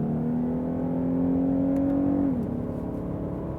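A Lexus IS V6 engine holds a steady, loud rev in manual mode, then its pitch drops sharply as the transmission downshifts and settles into a lower drone. The engine is heard close and alone, with no talk.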